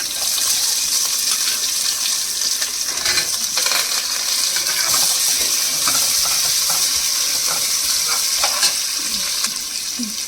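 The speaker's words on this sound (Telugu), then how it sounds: "ఉల్లిపాయ చాలా ఫ్రై కావాలి ఫ్రై అయితేనే కర్రీ చాలా బాగుంటుంది" Onions fry in oil with tempering spices in a pan for a flat bean curry, a steady loud sizzle running throughout with occasional stirring clinks, no voices.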